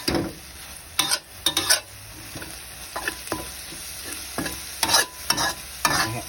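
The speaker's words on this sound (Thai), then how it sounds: "ต่อไปเราก็ผัดนะครับ ผัดให้น้ำซอสเข้าไปในเนื้อหมูนะครับ" Pork stir-fried with sauce in a pan for Thai kaphrao: loud sizzling broken by repeated sharp spatula scrapes and clatters in an irregular rhythm, close up, with no voices.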